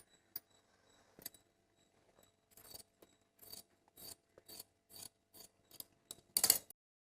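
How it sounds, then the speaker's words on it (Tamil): Scissors cutting blouse fabric for a cross-cut blouse, a series of crisp close snips: a few sparse cuts at first, then a steady rhythm of regular strokes with a louder final cut near the end, no talking. "இப்போ இதை வந்து கட் பண்ணி எடுத்துடலாம்."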